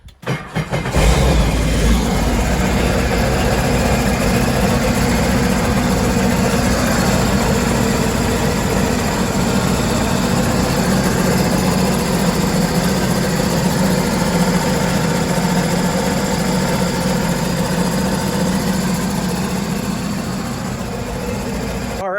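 A Sea-Doo jet ski's Rotax engine starts up after an oil change and then idles steadily with a low, continuous rumble, loud and close, with no talking over it.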